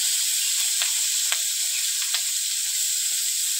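Small mourola fish fry in hot oil, giving a steady, faint sizzling hiss with a few soft pops and crackles, heard alone without any talk.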